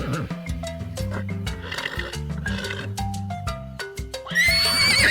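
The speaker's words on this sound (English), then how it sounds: "horse." A horse gives a loud, shrill neigh near the end, rising and wavering, after a stretch of bouncy background music.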